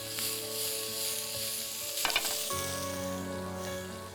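Green and red bell peppers for paneer fajitas sizzling in a hot pan, a continuous close hiss broken by a brief clattering toss midway, with a faint steady hum underneath.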